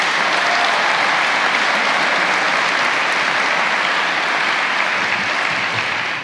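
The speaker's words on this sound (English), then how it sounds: "I think that they deserve a round of applause for their dedication" Sustained applause from an audience at a fire and EMS graduation ceremony, dense and even clapping that holds steady and begins to fade at the very end.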